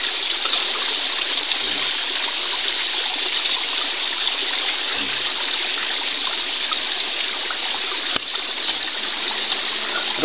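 A jungle stream flows in a steady, loud, close rush of water with constant splashing and trickling, heard alone.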